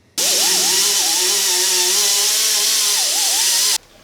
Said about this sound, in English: we took a sander to this, got this cleaned up a bit